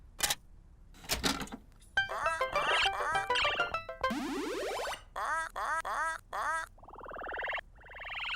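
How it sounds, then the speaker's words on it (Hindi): Cartoon duck quacking at a pond, a series of bright, buzzy quacks in short bursts with a rising whistle-like squawk near the end, loud and close, with no talking. "देखो, वहाँ तालाब में बत्तख है।"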